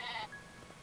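Brief sheep bleat from the video game Craftopia, a short nasal cry lasting a fraction of a second, fairly quiet and alone.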